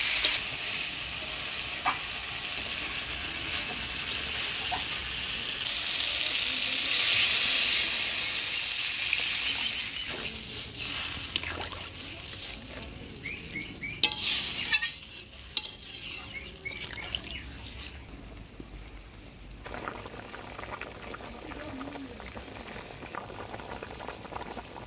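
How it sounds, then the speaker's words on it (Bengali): Spiced potatoes and eggplant sizzle in a pan for Bengali village fish curry, then a loud hiss and bubbling as water is poured in, easing into a steady simmer with occasional stirring clinks. "এবার জল দিয়ে দেবো।"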